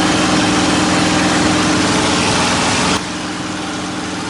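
A P-51 aircraft's piston engine drones loud and steady during a climb, a thick continuous roar with a slight drop in level partway through.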